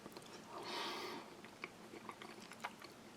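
Someone quietly chews soft, well-cooked lentils from a Spanish army ration, with faint, moist mouth sounds and small irregular clicks close to the microphone.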